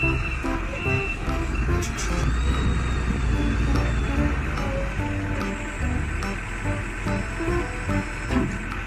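A toy forklift truck rolls out of a toy playset with a thin, mechanical whirring and small rattles, fairly faint and close, with playful electronic tones around it and no speech.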